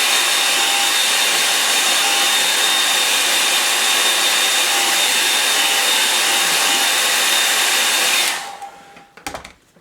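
A hair dryer blows on a watercolour painting of sand dunes, a loud, constant close whoosh that runs for about eight seconds and then cuts off, leaving faint handling clicks.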